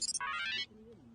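A phone ringtone plays a short electronic melody, a few quick bright beeps followed by a sustained warbling tone, close and clear, then cutting off abruptly.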